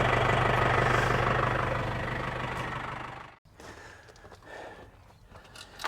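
A tractor engine idles loud and steady with a low rumble and slight knock while farm equipment is readied. It cuts off abruptly about midway, and a quieter background with faint clatter follows.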